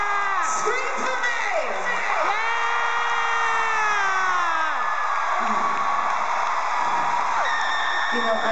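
A concert crowd at a Monster Ball show screams, whoops and cheers continuously, with shrill sustained yells from many voices forming a loud, dense wall of sound throughout.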